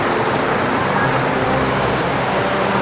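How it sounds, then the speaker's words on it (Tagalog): Heavy typhoon rain pours down outdoors in a loud, steady, dense roar that fills the whole clip, with no voices heard. "lakas kasi ng ulan"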